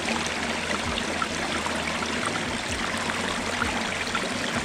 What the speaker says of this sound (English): Fresh stream drinking water, nothing better.